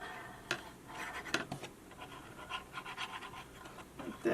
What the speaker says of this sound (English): that's a dog sitting next to me.